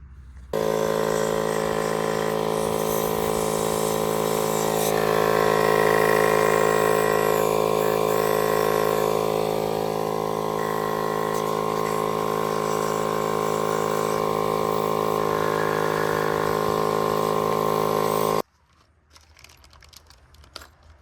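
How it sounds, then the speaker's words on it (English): A small air compressor fitted with a needle-end nozzle blows out a Ford half-track tractor carburetor, a loud steady hiss and hum holding for about eighteen seconds before cutting off abruptly, leaving faint clatter. "we're going to use this little compressor with the needle end on it to blow out the carburetor"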